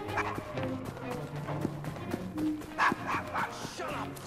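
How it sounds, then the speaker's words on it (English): Dog barking in the video game Assassin's Creed Syndicate, in Victorian London's Devil's Acre; repeated yapping barks sit among game music, effects and voices, fairly close and mid-level. "Shut up, dog!"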